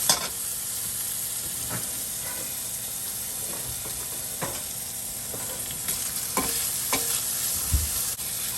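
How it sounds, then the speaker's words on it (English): Bacon fries in a pan with a constant bright hiss, while scattered knocks and scrapes mark it being stirred and nudged about. No one speaks. "we're going to go and jostle our bacon a bit"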